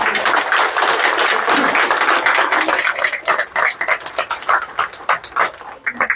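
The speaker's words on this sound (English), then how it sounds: "please give Natalie and Remax a big round of applause" A crowd at a commissioner meeting applauds loudly, dense clapping that thins out into scattered individual claps toward the end.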